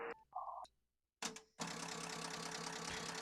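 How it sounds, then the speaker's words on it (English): An MFJ-998 automatic antenna tuner on a ham radio station works through a tune: a couple of short beeps, then a quick burst of clicks. A steady loud receiver hiss follows. "that's the sound of the MFJ 998 auto tuner"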